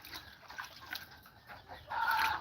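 A rooster on a farm in Aklan clucks close by in short, uneven bursts, ending in a louder, sustained call. No voices are heard.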